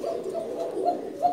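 A Panki line pigeon at a bustling Dhaka pigeon market coos in low, repeated rolling notes, close and steady, with a few brighter peaks toward the end.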